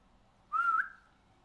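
A single short whistle calls out from across a river, rising slightly in pitch and holding for under half a second, clear and alone against near silence.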